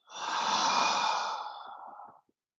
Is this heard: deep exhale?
yes